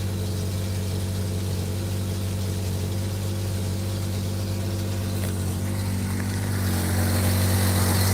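1970s car idling steadily with a low, even engine hum and a broadband hiss, growing slightly louder toward the end, with no voices.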